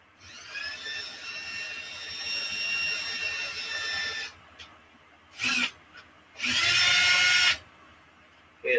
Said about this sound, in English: So we find our 13/64 drill bit